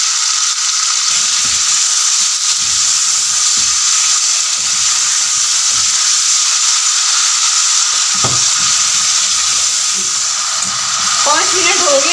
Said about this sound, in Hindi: पाँच मिनट हो गए बीफ को हाई फ्लेम पे फ्राई होते हुए।